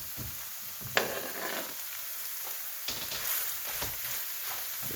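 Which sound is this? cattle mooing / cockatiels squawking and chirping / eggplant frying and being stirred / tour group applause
eggplant frying and being stirred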